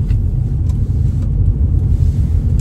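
A car on an Irish driving test route around Naas pulls away and accelerates, its engine a steady, loud low rumble close by throughout, with no talk over it.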